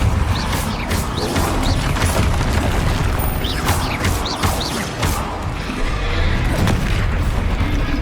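Spell explosions and impacts in Hogwarts Legacy: a dense, continuous barrage of loud booms, crashes and thuds with whooshing blasts layered throughout, the combat chaos never letting up.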